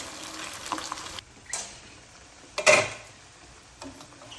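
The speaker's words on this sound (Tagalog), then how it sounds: "Yan. Prito muna natin siya." Sliced pork for low-carb sisig fries in a pan, a soft crackling sizzle broken by a few louder spits and scraping stirs, close and moderately quiet, with no talk.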